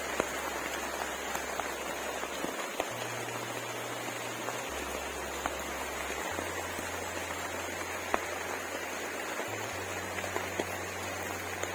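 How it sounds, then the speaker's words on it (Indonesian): Rain falls on a rural path home from rice paddies, a steady broadband hiss of drops close by, with a low intermittent engine-like hum running underneath and no talk. "Dan akhirnya hujan pun turun,"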